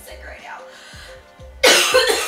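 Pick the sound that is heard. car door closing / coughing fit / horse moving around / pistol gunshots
coughing fit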